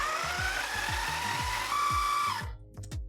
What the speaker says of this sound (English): I'm just gonna turn them into like sand almost in the food processor